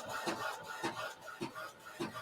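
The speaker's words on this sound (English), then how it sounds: "my printer is printing it right now" Home inkjet printer printing a reversed sublimation transfer, close and fairly quiet, its print head sweeping back and forth in four regular passes of whirring and clicks, with no talk.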